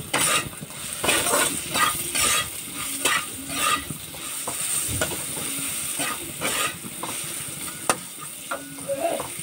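Turmeric crackles and sizzles in a hot frying pan, with a steady frying hiss and irregular pops alongside stirring scrapes and light clinks of a utensil against the pan, heard up close.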